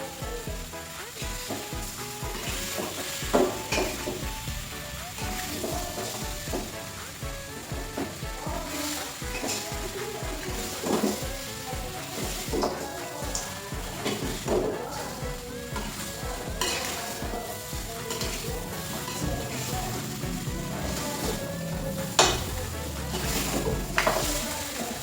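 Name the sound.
stirring tongseng meat with spices in a sizzling pan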